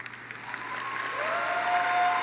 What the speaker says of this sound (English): You can clap if you want, it's fine.